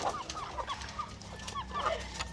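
Young hens, all female and not yet laying, cluck softly in a series of short, close calls over a quiet farmyard background.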